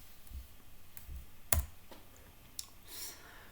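Sparse keystrokes on a computer keyboard as the dmesg command is typed at a Linux terminal, a few quiet clicks with one sharper, louder tap, close and otherwise near silent.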